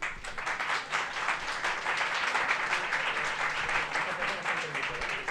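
Audience applause welcoming a speaker at a forensic psychology talk, dense rapid clapping from many hands that holds steady across several seconds.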